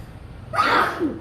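One sharp, loud sneeze bursts out close by, preceded by a brief quiet inhale.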